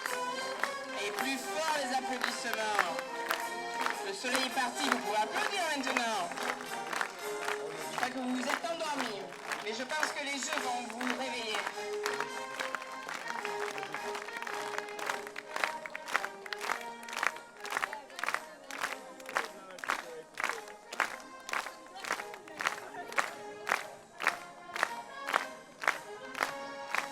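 A village festival gathering of Saint-Laurent communities in Saint-Laurent-de-Gosse, where a crowd cheers and shouts, then breaks into rhythmic clapping in time, with people talking throughout.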